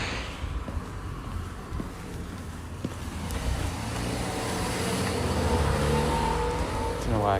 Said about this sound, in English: Car coming.